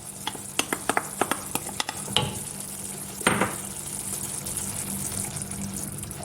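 Tomato paste is stirred into a pan with chopped garlic, with a run of quick scraping taps early on, then a steady low sizzle, and one louder scrape and clatter near the middle.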